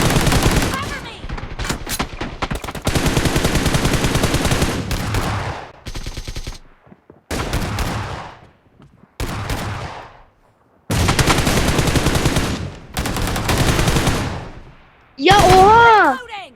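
Long bursts of loud automatic gunfire in a shooter video game match, sustained rattling volleys broken by short pauses, with a voice briefly heard near the end.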